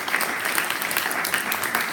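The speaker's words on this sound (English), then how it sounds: "A very big round of applause for all our speakers from this morning." A conference audience at an interdisciplinary research event on tackling the SDGs in Africa breaks into steady, dense applause for the morning's speakers, a continuous even patter of many hands clapping throughout.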